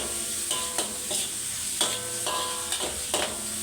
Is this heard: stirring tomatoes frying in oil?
yes